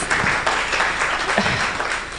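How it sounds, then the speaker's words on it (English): Continuous audience applause at a business CEO forum in Kenya, a dense wash of clapping from a crowd filling the whole short stretch at a steady level. "of course, a round of applause for her"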